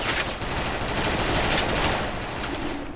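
Gunfire in the shooter game Special Force crackles in rapid, dense bursts of overlapping shots, like a machine gun firing continuously at moderate loudness.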